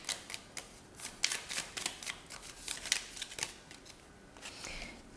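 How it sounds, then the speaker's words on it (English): Tarot cards being shuffled for a pick-a-card reading, a close, quiet series of crisp riffling flicks and soft slaps in irregular bursts, with no voices. "We're also going to shuffle these cards right here."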